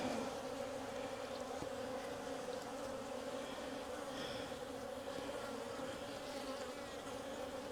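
Honeybees in an open backyard hive holding queen or swarm cells give off a dense, steady buzzing drone, close and continuous, with no one talking.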